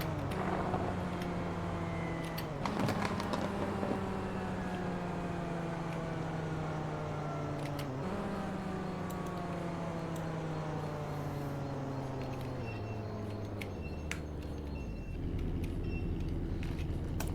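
A Dodge Viper's engine in a racing video game winds down in steps, each downshift marked by a sudden jump in revs followed by a steady falling drone, with no voices.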